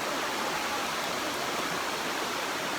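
Steady, dense rush of a jungle waterfall in Baloda Bazar district, heard from above as an even, full-bodied roar of falling water with no voices.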